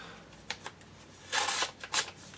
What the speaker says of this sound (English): then I'll open up these other two envelopes